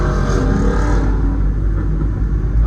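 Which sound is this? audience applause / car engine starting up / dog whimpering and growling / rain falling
car engine starting up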